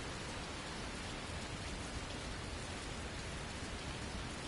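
Rain falls constantly in Fernbus Coach Simulator during a Paris to Luxembourg coach run, a thick unbroken patter close by with no speech over it.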